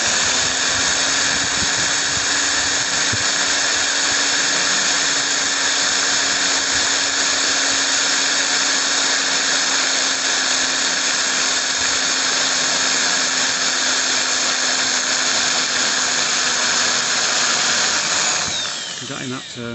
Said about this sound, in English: he's going to just drill through those points